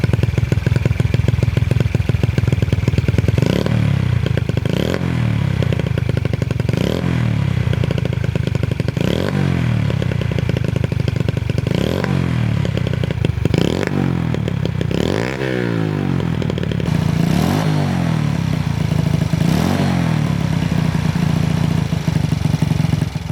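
A pocket bike with a freshly fitted carburetor runs loud and close, its small engine buzzing steadily with repeated throttle blips and revs roughly every two seconds, no talking.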